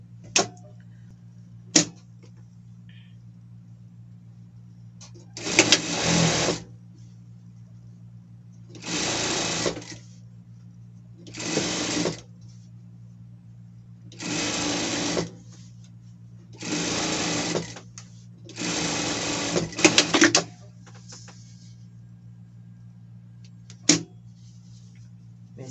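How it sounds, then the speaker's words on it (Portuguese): A sewing machine topstitches a seam on a costume in six separate bursts of fast, even stitching, each a second or two long, with quiet gaps and a low steady hum between them. "aqui vamos rebater a costura também"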